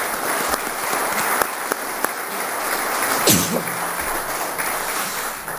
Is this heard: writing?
no